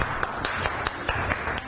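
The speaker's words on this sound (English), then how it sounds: "If you don't clap, I'll clap on my own." Clapping from the studio audience of a Kenyan dating reality show, a sparse, fairly regular run of separate claps over a steady background murmur.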